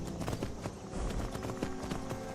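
Horse hooves clip-clop in a steady, brisk rhythm as a rider travels on horseback through Skyrim VR, a continuous moderately loud trot with no talking.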